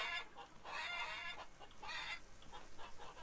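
Farmyard chickens in the farming video game Farmer's Dynasty cluck and squawk in repeated bursts, several birds calling close together at a steady, busy pace.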